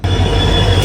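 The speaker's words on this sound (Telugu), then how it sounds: "మల్కాజ్గిరి స్టేషన్ దాటుతుంటే సంబల్పూర్ నాందేడ్ ఎక్స్ప్రెస్ లోపలికి వస్తుంది" Sambalpur–Nanded Express rolling through Malkajgiri station, close and loud, with a steady heavy rumble of wheels on rails and a high metallic whine running through the whole short stretch.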